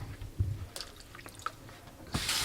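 Beets are rinsed of garden dirt under running water in a sink, with drips and small splashes followed by a louder rush of tap water at the end, close, with no talking.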